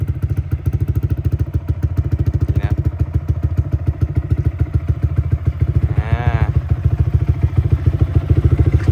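A 2018 Yamaha YZF-R15 with 21,000 km on it idles close by, its engine thumping in a fast, even pulse that stays loud throughout, with a brief higher rev swell near the end.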